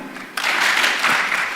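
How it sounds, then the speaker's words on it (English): An audience breaks into applause after a quiet start, dense clapping that holds steady and fills the room for the rest of the moment. "can we give them a clap,"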